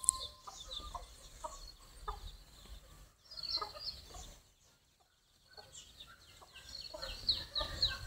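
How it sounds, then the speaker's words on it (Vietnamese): A mother hen clucks softly and repeatedly as her brood of nine naturally hatched chicks peep high and thin while foraging in a garden, with quieter pauses between the calls. "Gà ấp nở tự nhiên. Một đàn 9 con."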